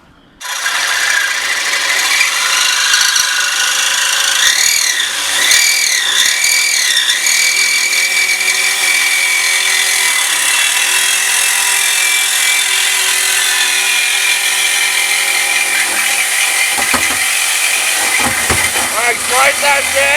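A large power tool cuts through the exhaust pipe of a Volkswagen Jetta, a loud steady whine running nearly the whole time while people speak over the noise.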